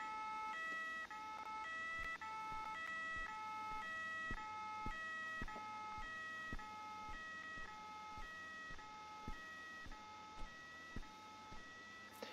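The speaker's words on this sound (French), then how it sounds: "je peux pas enlever sa sirène" A stuck vehicle siren in the game BrokeProtocol wails in a steady two-tone alternating pattern, continuous and fairly loud, with faint periodic ticks underneath and no voices.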